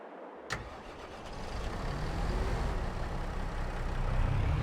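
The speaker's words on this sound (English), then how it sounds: "Let me jump onto this tractor." A tractor engine starts up in a farming video game, with a sharp click followed by a steady, gradually building mechanical rumble that stays loud and continuous to the end, with no talking.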